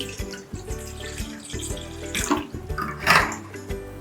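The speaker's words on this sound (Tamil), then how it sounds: "கொஞ்சம் தண்ணி ஊற்றிட்டு" Water pours from a tap into a cooking pot while making spicy Schezwan sauce at home, a close, splashing stream with gurgles and clinks that grow louder toward the end.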